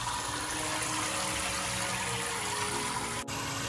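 Water running steadily from a tap, a constant loud rushing flow that continues unbroken from start to finish with no voices over it.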